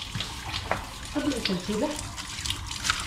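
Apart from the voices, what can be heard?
water running in a sink while washing dishes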